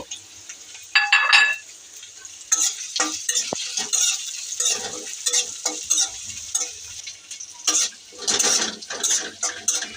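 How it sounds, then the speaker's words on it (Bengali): Onion, garlic and green chili frying together in hot oil while cooking a Malabar spinach stir-fry, with a soft sizzle broken by scraping and stirring clatters of a spatula against the pan, close and intermittent. "এখন আমি পেঁয়াজ, রসুন, কাঁচামরিচ সব কিছু একসাথে ভাজবো"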